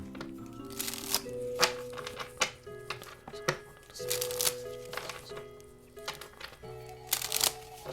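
Oracle cards being shuffled in repeated bursts of crisp riffling and flicking, fairly close, with soft background tones and occasional faint talk between the shuffles.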